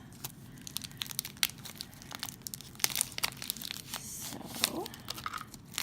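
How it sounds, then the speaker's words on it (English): Plastic shrink wrap crinkles and tears as it is pulled off a tarot card deck, giving close, scattered crackles and rips. A person speaks briefly over the sound. "take off the shrink wrap"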